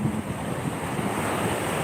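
Rough sea surf breaking on a beach, with a steady, close roar of waves and gusty wind buffeting the microphone throughout.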